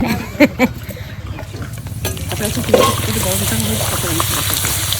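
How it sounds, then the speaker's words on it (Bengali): Papad crackles and sizzles loudly in hot oil, starting with a few knocks and stirring scrapes before a dense, close frying hiss takes over. "আজকে পাপড় ভাজবো"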